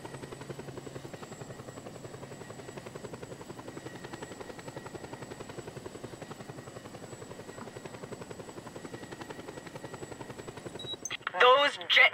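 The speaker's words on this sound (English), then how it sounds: "let's just wait till the helicopter's over each thing." Helicopter in the video game Just Cause 2, a steady loud rotor thrum that drones on continuously, then a brief burst of sharper noise near the end.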